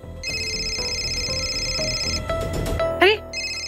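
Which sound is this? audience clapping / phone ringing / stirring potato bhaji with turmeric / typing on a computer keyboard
phone ringing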